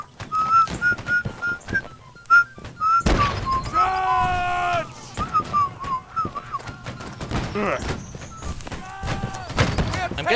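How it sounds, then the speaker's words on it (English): A person whistles a thin, wavering tune in short repeated notes, with a loud thud and a burst of warbling tones partway through, other voices and bangs mixed in nearby. "I'm getting better at whistling"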